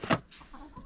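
Chickens in a backyard run give brief, soft clucks, a quick burst of close-up fowl calls in under a second.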